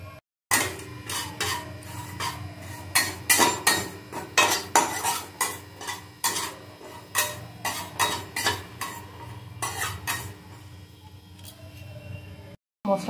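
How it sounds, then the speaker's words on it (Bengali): Whole cumin, two dried red chillies and two cardamom pods dry roasting in a dry kadai, stirred with a metal spoon in a steady run of sharp scraping clinks and rattles, close and fairly loud, with no talking. "এটা শুকনো কড়াই আমি একটু টেলে নেব।"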